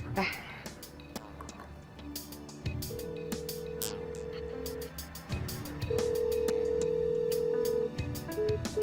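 Phone call rings out unanswered, with repeated electronic ringback tones in steady pulses under background music and ambient sound, the later tones louder and clearer.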